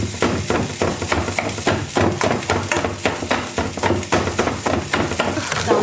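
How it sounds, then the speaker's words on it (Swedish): A knife chops food on a cutting board in a home kitchen, rapid steady strikes about three per second, loud and close, continuing without pause over a faint background hum. "mamma måste hacka med den här istället"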